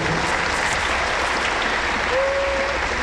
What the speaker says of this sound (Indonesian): Yang setuju berikan tepuk tangan yang meriah buat Tuhan.